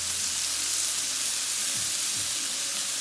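Steak for street tacos searing in a pan, a steady close sizzle and hiss running throughout with a couple of faint low knocks, and no voices.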